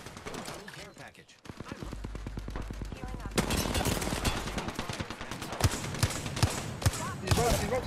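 Gunfire in Apex Legends, with rapid bursts and single sharp shots crackling close and loud in a fight, overlapping someone talking.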